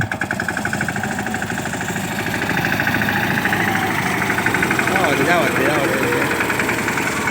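A tractor engine plowing a village field chugs steadily and loudly close by, with a rhythmic knocking throb that holds throughout.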